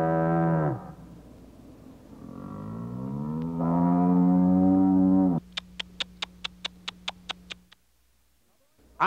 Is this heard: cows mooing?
yes